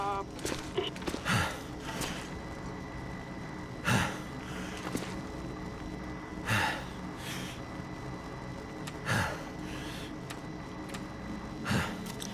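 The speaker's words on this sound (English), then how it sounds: "I don't want you to have to listen to that heavy breathing the whole time we're doing the conversation." A man breathes heavily into a microphone in a survival game session, a slow cycle of loud, rough breaths about every two to three seconds over a low background hum, with no talk.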